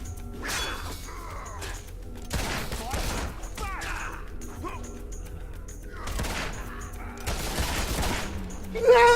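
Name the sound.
gunfire from the Fable II video game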